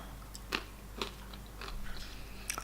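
Close-up crunchy chewing of warm McDonald's french fries, a few sharp crisp bites and crunches spaced out, then steadier munching toward the end.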